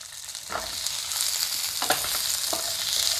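Tomato, ginger and garlic frying in a pan with chilli and coriander, a constant hissing sizzle with three distinct stirring scrapes spaced across the clip, close and clear with no talking.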